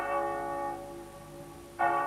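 The tenor bell of St. Peter and Paul church, cast in 1625, rings out with a long, pure, humming tone that slowly decays before a second strike sounds near the end.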